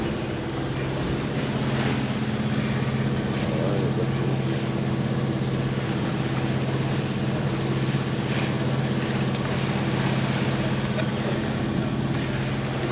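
Boat motor droning steadily at sea on the Mediterranean, a continuous loud engine hum mixed with wind buffeting the microphone and faint talk underneath.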